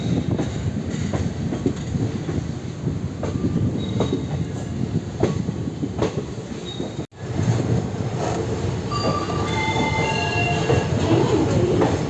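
Basava Express, a passenger train, runs through KSR Bengaluru with a loud, close rumble of wheels, rhythmic clatter over rail joints and high metallic squeals in the later part, with no talking.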